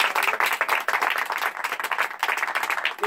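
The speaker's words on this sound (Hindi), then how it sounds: "जोर से ताली बजाओ उस गवाही के लिए" A church congregation claps loudly for a testimony, dense overlapping hand claps forming a continuous, fairly close burst of applause with no talk.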